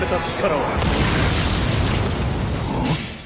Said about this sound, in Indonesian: Dengan ledakan Reiatsu yang luar biasa, Ichigo berhasil menghancurkan kurungan tersebut